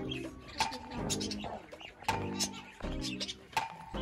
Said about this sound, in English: Birds, there is a parrot.